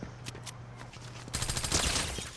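Glock pistol fire in Fortnite: a few scattered shots early on, then a dense burst of rapid gunfire that fills the second half, with no talking.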